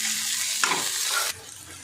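Green chili and bay leaves frying with beans and carrot for oats pulao, a bright hiss of sizzling oil broken by a brief scrape of stirring, then dropping quieter near the end.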